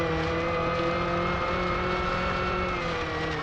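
A rear-wheel-drive rally car engine in a rally racing video game drones loudly and steadily at high revs, a continuous synthetic motor tone with no pauses.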